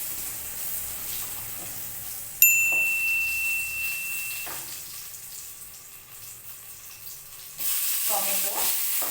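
Two medium onions sizzle steadily in a pan with cumin seeds as they are stirred, with a brief metallic ding partway through and no talking.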